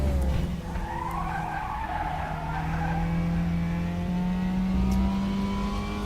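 A Mazda MX-5 Cup car slides under braking at Daytona in the RaceRoom racing game, its tires squealing steadily over a constant engine drone for several seconds, with no talking.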